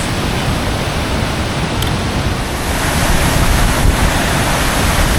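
Loud, steady roar of a waterfall, Root Beer Falls in Michigan's Upper Peninsula, a dense unbroken rush of water heard up close with no talking.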